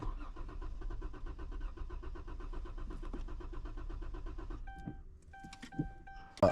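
A 2013 Dodge Charger engine cranks and catches, running steadily for several seconds, then chimes ring and the engine stumbles and stalls before a sharp thump at the end.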